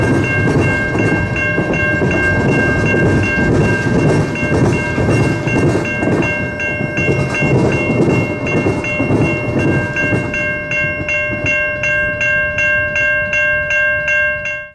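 Grand Trunk freight train rolling past with a string of brand new Procar tank cars, loud steady rumble with rhythmic clickety-clack of wheels over rail joints and tonal squealing, close throughout.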